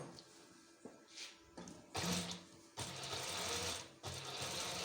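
A sewing machine runs a double line of stitching on a waistcoat, several short rattling bursts with brief pauses between them, close and fairly quiet.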